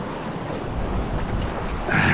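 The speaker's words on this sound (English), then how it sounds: "When those waves come over that rock." Ocean waves surge and wash over a rock near a kayak at sea, a continuous loud rush of surf and spray with wind noise on the microphone, swelling louder toward the end.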